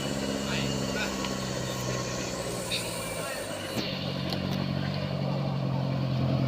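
A trailer truck's heavy diesel engine rumbles and revs steadily during a difficult roadside evacuation, with a loud low drone under outdoor traffic noise and a brief air-brake-like burst midway.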